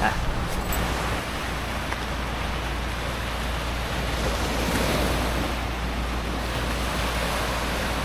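Ocean waves washing at a tidal pool in Casiguran, Aurora, a steady broad roar of surf with wind buffeting the microphone, continuous and fairly close, no talking.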